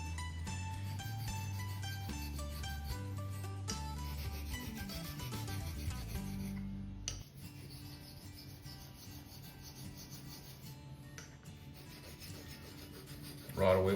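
A straight razor, a Dovo Bismark, makes repeated scraping half strokes across a convex coticule hone with slurry, a soft rhythmic rubbing and swishing close by, quiet and steady.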